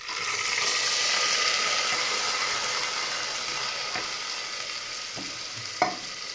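Onion paste sizzles steadily as it fries in a pan for chicken masala, with occasional sharper scrapes and clinks as it is stirred, a continuous close frying hiss throughout.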